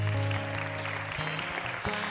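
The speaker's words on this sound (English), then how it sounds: "Can we have a round of applause" Audience applause for volunteers at an evening ministry event, a short burst of clapping from a crowd that swells briefly and then holds.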